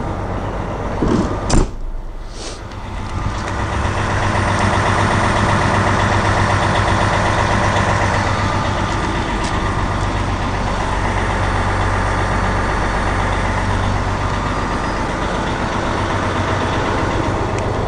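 A 2005 MCI J4500 56-passenger coach bus engine idles with a loud, steady diesel rumble after a few brief clunks at the start, holding an even drone close by throughout.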